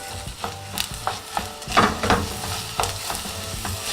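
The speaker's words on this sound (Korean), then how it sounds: "쌀을 넣어주세요. 그리고 볶아주세요." Rice stir-fried in a pot for a pot-cooked eoseuri herb rice, with sizzling and scraping stirs coming in irregular bursts, close and moderately loud, and no talking.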